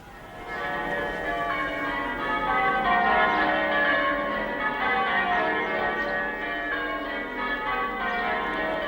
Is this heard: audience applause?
no